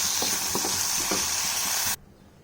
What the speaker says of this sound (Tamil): சின்ன வெங்காயமும் தக்காளியும் வதங்கிட்டுருக்கு